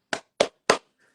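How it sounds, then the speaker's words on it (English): Three sharp hand claps ring out close and alone, evenly spaced, each one short and crisp, followed by silence. "clap 3 times"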